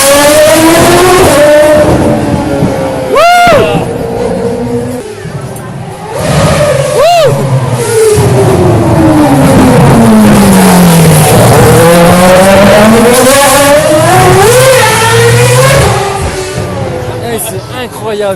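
A single-seater race car roars past at close range with a loud, high engine whine. Its pitch swoops through repeated gear shifts and a long falling Doppler sweep, and excited voices are heard over it.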